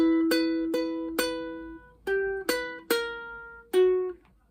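Plucked ukulele notes of the first two bars of the Luigi's Mansion theme ring out one at a time in a slow, gentle phrase, each decaying before the next, with no voices.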